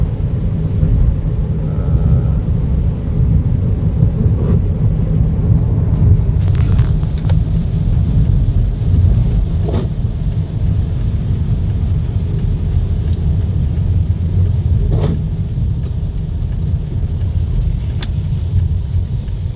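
Driving in rain on a concrete road, Route 13 in Vientiane, Laos: a steady, loud, continuous hiss of rain and tyre spray mixed with the low road rumble of the vehicle, with no voices.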